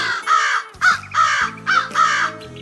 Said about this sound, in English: the crow tried to chase him away